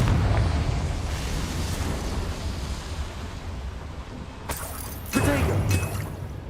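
Confringo spell blast in Hogwarts Legacy, a loud roaring explosive rumble that sustains throughout, with sharp bursting hits near the end over dense game ambience.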